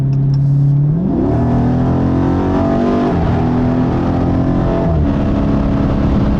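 A heavy car's engine pulls hard while accelerating, rising in pitch through a couple of gear changes, loud, close and continuous with no talking.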